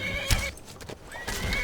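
A horse in Skyrim whinnies with a short, sharp neigh, accompanied by thudding hoof clip-clops close by.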